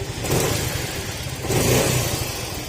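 A warmed-up motorcycle engine revs and surges twice in close succession on its own, a loud, steady rumble rising and falling with no voices.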